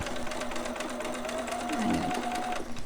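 A home sewing machine back stitches fabric for a newborn romper, a steady close motor whir with a faint tone shift as the stitching reverses, running alone for about three seconds.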